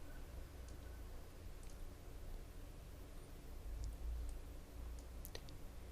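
A computer mouse is clicked during a VirtualBox virtual machine setup, giving a few faint, sharp, scattered clicks over a low steady hiss.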